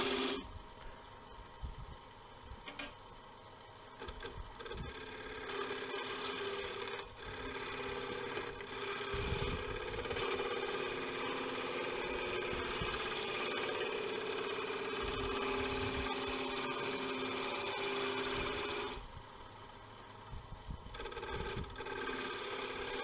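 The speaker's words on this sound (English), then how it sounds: "So this is all just being done with Lyle's bowl gouge, Jamieson grind, his signature bowl gouge" A Lyle Jamieson bowl gouge with a swept-back Jamieson grind and parabolic flute cuts a wooden bowl on a woodturning lathe, giving a continuous, loud, rough shearing hiss over motor hum that briefly eases near the end.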